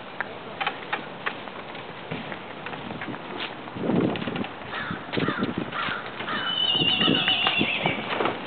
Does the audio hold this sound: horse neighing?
yes